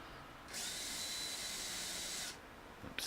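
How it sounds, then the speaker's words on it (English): A power drill sinks screws into plywood in one steady high whine lasting almost two seconds. It is close and loud against a quiet room, with a faint knock afterward. "I'm sinking the screws there so they don't touch the floor"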